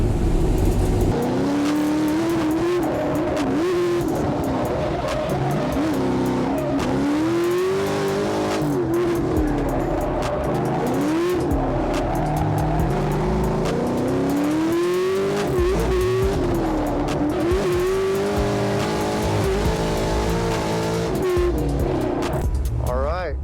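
A Corvette sports car accelerates and shifts through gears around a track, engine rising and falling continuously with occasional tire squeal, loud and close throughout.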